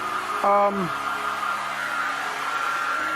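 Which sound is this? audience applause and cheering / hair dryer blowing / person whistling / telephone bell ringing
hair dryer blowing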